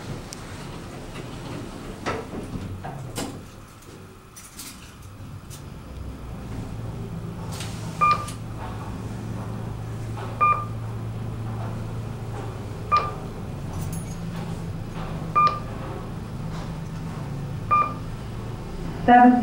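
Westinghouse/Kone traction elevator rising in a building on Space Center Blvd, a low steady motor hum under faint rumble, with regular short beeps as floors pass and a few soft clicks.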